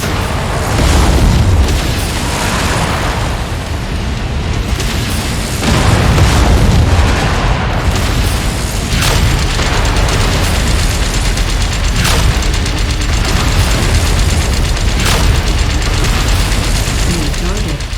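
Missiles explode in MechWarrior 5: Mercenaries: repeated heavy booms and bursts punctuate a dense, loud wash of mechanical clanking and combat noise lasting the whole stretch, with no clear speech.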